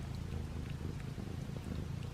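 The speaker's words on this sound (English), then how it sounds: "He's purring so loud." A cat purring loudly up close, a steady low rumbling throb with a soft even rhythm, quiet overall and with no voices.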